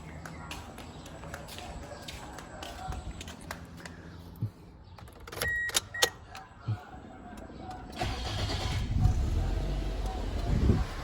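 A few sharp clicks and rattles, then the engine of a 2003 Toyota Corolla Altis 1.6E starts and settles into a low, rumbling idle with wind noise.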